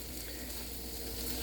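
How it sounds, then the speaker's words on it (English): Garlic and onions frying in a pan give a steady, close sizzle that stays even and continuous, with no talking. "So just throw in some garlic and just stir that all together."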